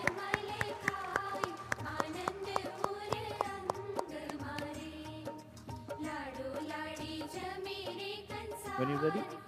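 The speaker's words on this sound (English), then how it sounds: "Everyone, a big round of applause" Wedding guests clapping at a ceremony, a regular run of sharp individual claps in the first half over ongoing music with sung melody, the clapping thinning as the music continues.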